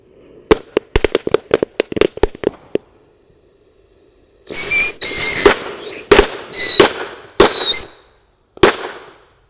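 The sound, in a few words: mercon roket minitor firecracker rocket lit underground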